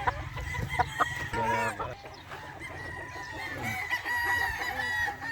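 Young stag roosters, about six months old, crow and cluck on a game farm, with overlapping calls throughout amid farmyard background noise.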